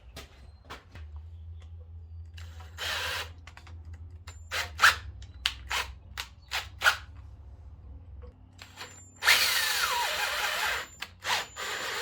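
A power drill whirs in short bursts while drilling out a brake part on a 1970 C10 pickup, several brief whines with a longer loud run near the end, close up with clicks and handling noise between.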